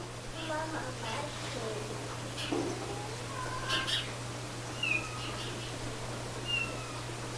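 A kitten meows repeatedly for its mother, the thin calls coming at irregular intervals over a steady low hum and background noise, with people talking nearby.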